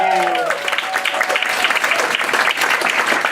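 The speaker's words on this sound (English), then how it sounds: "give yourselves a round of applause for sticking with us" Audience at a literary festival evening breaks into sustained, dense applause, close and loud for the full stretch, with a few voices briefly rising at the start.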